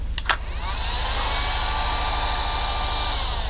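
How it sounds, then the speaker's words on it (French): Steady whooshing rush of cool air from a Babyliss Secret Curl Wave curling iron, constant and close, after a couple of brief clicks at the start. "Donc le bruit que vous entendez là, c'est l'air frais."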